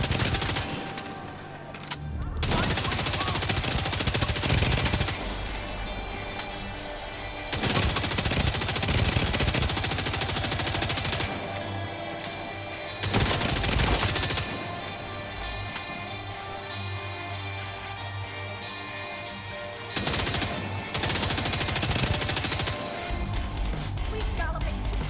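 Assault rifles spray sustained automatic fire in The Division 2, several long loud bursts separated by brief pauses, with game voice announcements and other action in between.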